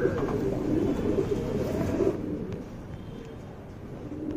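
A pigeon in Bangalore, shown up close, coos in low, soft murmurs under a steady, muffled background hum, with no talking.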